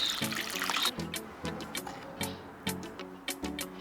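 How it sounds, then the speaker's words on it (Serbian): Water runs and splashes into a bowl being filled to wash a lemon, a close, steady trickle broken by a few light clinks and taps. "U činiju ću sipati vodu da mogu da operem limun."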